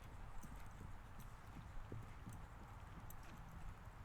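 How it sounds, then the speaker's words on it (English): A bunch of horses at a class make steady, soft clip-clopping of hooves, a continuous irregular patter heard faintly at a distance over low rumbling background noise. "It's a nice bunch of horses."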